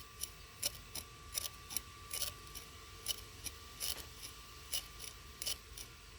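A throttle body being worked back and forth with valve lapping compound, giving repeated gritty scraping rasps in an irregular rhythm, close and fairly quiet over a low steady hum.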